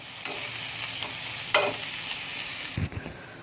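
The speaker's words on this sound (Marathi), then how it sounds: "असा स्लाइसमध्ये कट केलेला आपल्याला छान गोल्डन ब्राऊन होईपर्यंत फ्राय करून घ्यायचा आहे बरं का" Sliced ingredients for shev bhaji fry over high heat in a pan, giving a close, continuous sizzle and crackle with a few sharper stirring scrapes and a thump near the end.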